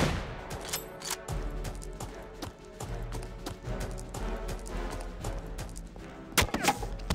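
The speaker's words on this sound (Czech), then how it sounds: "Někdo po mě střílí, já nevím, kdo to je" Gunfire in the video game Return to Castle Wolfenstein rattles in repeated sharp bursts and single shots over a busy game soundtrack, with a louder cluster of shots near the end.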